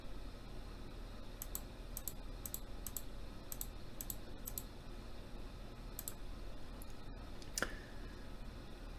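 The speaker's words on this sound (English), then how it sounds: "all we have to do is click on here" Computer mouse clicks sound in a quick irregular series, a few pairs and single taps, crisp and close over a steady low room hum with no talking.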